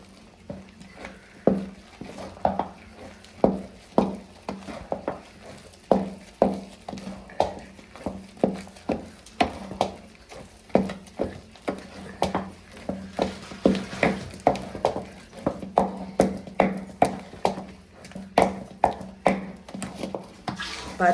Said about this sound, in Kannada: ಮುದ್ದೆನ ನಿಧಾನಕ್ಕೆ ಈ ಥರ ತೀಡ್ಕೊಳ್ಳಿ